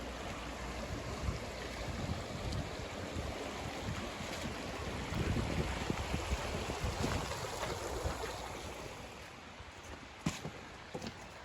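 A creek with waterfalls runs among buildings in a city, giving a steady broadband rush of water that stays even throughout, with wind noise on the microphone and a few faint clicks near the end.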